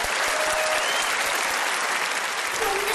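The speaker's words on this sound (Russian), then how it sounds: "Под аплодисменты." Studio audience applause on a Russian evening television show, a strong, steady roar of many hands clapping close and loud throughout.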